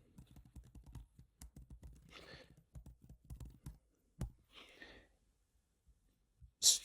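Computer keyboard typing, a steady run of light key clicks near the mic, pausing with a couple of soft breaths between short bursts, no talk.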